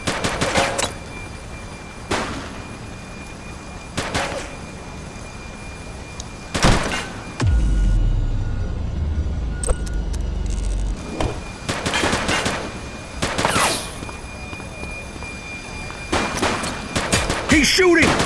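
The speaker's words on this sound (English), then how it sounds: "He's shooting!" Sharp gunshots in a police shootout in The Precinct, several spaced cracks with a low rumbling stretch in between, voices speaking over the action.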